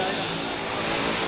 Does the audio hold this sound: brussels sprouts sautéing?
no